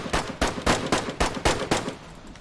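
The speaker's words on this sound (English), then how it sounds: "I'm getting shot at!" Gunfire in the survival video game DayZ: about seven loud, sharp shots in a steady, rapid rhythm, each with a short ringing decay, with no talking over them.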